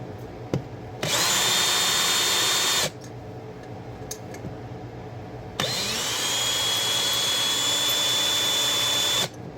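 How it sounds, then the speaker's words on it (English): A power drill whines in two long bursts separated by a pause, high-pitched and close, drilling into a WWII metal helmet with a small bit, with small clicks and handling noises between. "So I'm going to start with a smaller drill bit."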